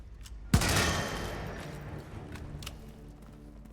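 A single loud burst of gunfire in the game Hitman: World of Assassination cracks out, followed by a long rolling rumble that slowly fades.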